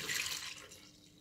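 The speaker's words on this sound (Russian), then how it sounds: "Вот у меня мука, которой я добавляю 300 мл молока." Milk, 300 ml, pours into flour for an eggless bun dough: a brief, close, liquid splashing that fades quickly.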